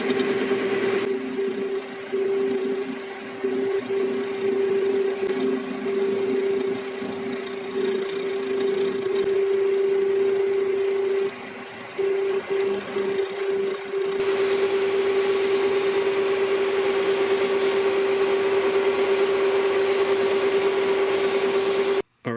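Metal lathe cutter taking a pass across a welded snowblower drive axle, a steady whining tone running continuously, with a brief interruption near the middle and a brighter, noisier stretch in the final third.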